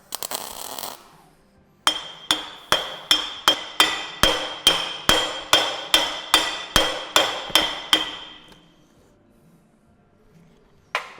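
Fast, evenly spaced metal hammer strikes drive a tight bearing into a trailer suspension, about sixteen in a row with a bright clinking tone, then stop; close and fairly loud.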